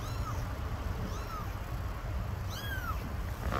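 A small stray kitten gives a few thin, high meows spaced out over a steady outdoor background hiss, fairly faint and with no talking.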